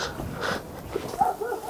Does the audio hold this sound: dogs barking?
yes